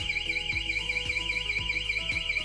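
A loud electronic home alarm siren, triggered by a motion sensor, wails in a fast, steady warbling pattern, repeating continuously with no voices.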